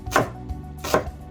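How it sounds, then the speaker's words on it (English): A knife chops folded cilantro on a cutting board in two close, firm knocks about a second apart, each with a crisp thud against the board. "cut off the ends of my cilantro, and then I personally just like to fold it in half and just slowly start chopping"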